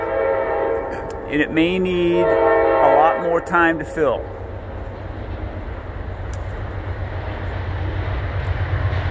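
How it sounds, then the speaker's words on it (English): A train horn blares over speech at first, then a low rumbling train noise continues steadily after the talking stops. "Oh, we have a train coming through."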